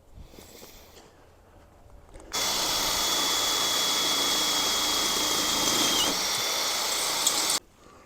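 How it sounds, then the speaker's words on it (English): A power drill with a 5/16 bit bores steadily through 2-inch metal tubing for a sawmill shelter, a loud continuous whine and grind that starts abruptly, holds for about five seconds, then cuts off. "We're gonna drill through that 2-inch tubing first"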